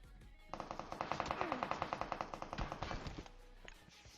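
Automatic gunfire in PUBG rattles off in a rapid, even burst of roughly two dozen shots lasting about three seconds, loud and sharp with no talking over it.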